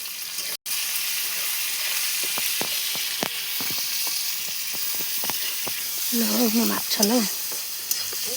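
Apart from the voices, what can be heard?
cinnamon, bay leaves and onion frying in hot oil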